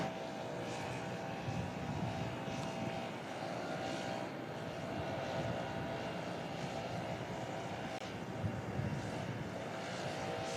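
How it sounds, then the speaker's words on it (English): Airplane at Louisville International Airport, a loud continuous engine roar and whine holding steady throughout with no talking. "All right, forget that plane."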